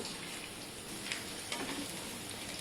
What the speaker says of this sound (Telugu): గార్లిక్ ఫ్రై అవుతాను కదా